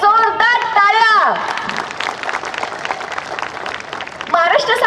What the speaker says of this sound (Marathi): या ठिकाणी उपस्थित असणाऱ्या माझ्या सगळ्या भगिनी यांच्यासाठी एक जोरदार टाळ्या.